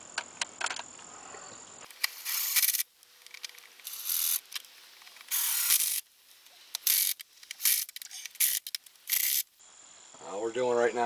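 A ratchet lightly snugs down intake manifold bolts on a 1997 Crown Victoria CVPI, giving short bursts of rapid clicking separated by pauses, close up, with someone speaking briefly at the start and end.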